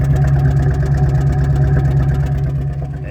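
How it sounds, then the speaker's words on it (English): A 1979 Rolls-Royce Silver Shadow engine idles on a cold start, running a little rich: a steady, loud, low rumble with an even throb and no talk over it, coming through a large exhaust. "it's cold start right now, so it's running a bit rich"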